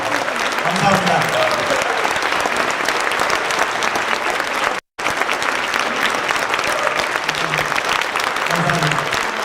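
Sustained applause from a crowd at a political rally, dense and steady for several seconds, briefly cut off midway, with faint voices and a low murmur underneath.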